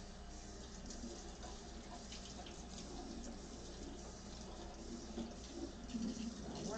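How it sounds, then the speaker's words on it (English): Tap water runs over rice in a sieve to rinse off starch, a steady close splashing and trickling stream that continues for several seconds, fairly quiet, with no talking. "you're gonna run the rice under water until the water runs clear"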